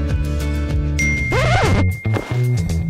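A phone notification chimes as a bright single ding that rings on over music, with a sliding tone and other sounds following.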